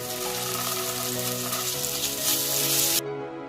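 Spices sizzling and frying hard in a pan with ginger-garlic paste for a prawn curry, a steady close crackle that cuts off abruptly near the end, with no talking.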